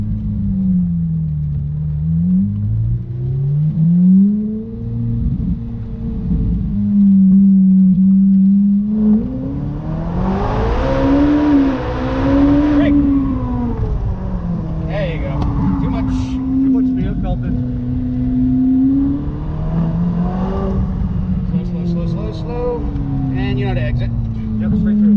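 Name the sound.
short-stroke car engine revving while driving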